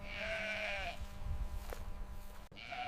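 Sheep bleat on a modern sheep farm as they move through a handling race. Two loud, drawn-out bleats stand out over steady background noise and shuffling, with a sharp click between them.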